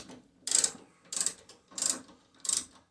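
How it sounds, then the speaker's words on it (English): A ratchet wrench cranks a bolt out of a Jeep Gladiator frame, four evenly spaced bursts of sharp metallic clicking, close and clear with short pauses between strokes and no talking. "Just crank on the bolt and pull it out."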